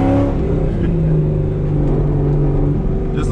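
Chevrolet Corvette C5 on cheap tires launching hard from a standstill, its engine roaring loud and close with a steady, sustained drone throughout.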